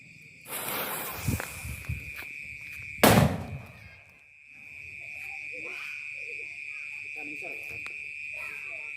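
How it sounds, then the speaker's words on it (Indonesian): A loud Elang firecracker bangs sharply up close at night after a hiss and smaller pop, exploding low, followed by a steady chorus of crickets and faint voices talking. "ini dia petasan elang mas siap untuk kita nyalakan"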